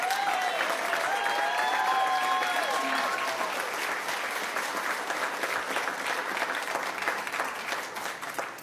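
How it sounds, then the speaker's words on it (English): An audience at a school district board meeting applauds Tim Arnold, named Outstanding Adult Volunteer of the Year. The clapping is dense, steady and loud throughout, with a brief voice near the start. "Let's give him a round of applause"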